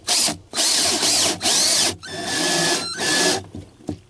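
A power drill driving screws during RV solar installation work, several loud whirring runs separated by short pauses, close and clear with no talk.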